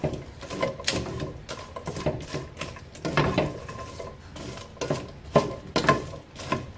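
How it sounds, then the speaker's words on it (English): A keto candy mixture stirred in a pan, giving steady rhythmic scraping and clicking of a utensil against the pan, close and moderately loud, with repeated sharper knocks and no speech. "So I'm just stirring this all up."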